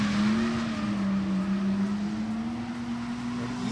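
Drift cars running side by side at the Drifting the Plains competition give a loud, sustained engine roar with a steady, slightly wavering pitch that fills the whole stretch.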